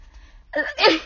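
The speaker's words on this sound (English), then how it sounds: "the squeakiest of sneezes." A quick squeaky sneeze: a short sharp intake followed by a high, pinched burst, close and loud, with no talking.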